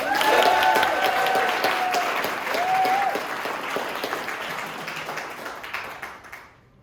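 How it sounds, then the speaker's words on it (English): Audience applause at a level 1 class show, a broad dense burst of clapping that holds strongly, then thins and fades out over several seconds, with faint voices mixed in. "And audience, before they begin, give them a big round of applause."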